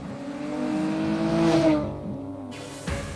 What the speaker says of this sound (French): La sonorité de ce moteur est quand même assez rond en fait. Rond et efficace, et tout en étant feutré et discret.